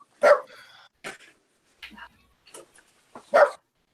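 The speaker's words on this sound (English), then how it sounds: "Cross, my dog's barking at you, man." A dog barks in a handful of sharp, close barks spaced irregularly, with quieter yips and whines between them.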